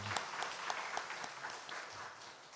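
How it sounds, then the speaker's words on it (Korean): A church congregation applauds during a Sunday service in a Korean church, a steady wash of many hands clapping at moderate distance, fairly soft and even throughout with no voices over it. "하나님께 영광의 박수 올려드립니다."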